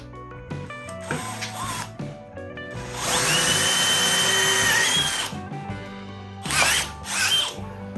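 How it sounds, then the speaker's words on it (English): A hole saw on a power drill bites into material in a grill and wheel repair, with short whirring bursts, a loud sustained cut in the middle, then a couple more brief spins. "Hole saw is only big enough to go halfway, which is fine."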